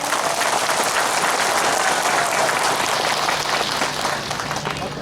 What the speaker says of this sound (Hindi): कंजूसी मत करो ताली मारने में।